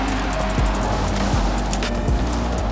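A Monte Carlo car in Forza Horizon 5 drives off the road into water, with engine drone under a wash of splashing and surf-like noise, engine pitch dipping and rising a few times.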